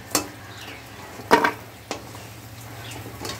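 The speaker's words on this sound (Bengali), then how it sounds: "ফুলকপি আলুগুলো ভেজে নিচ্ছি" Cauliflower and potatoes fry in oil, a faint steady sizzle broken by a few sharp clinks and scrapes of a utensil stirring in the pan, close and without talk.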